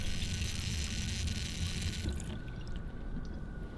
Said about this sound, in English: Got a little bit of white water coming out with the clear water as well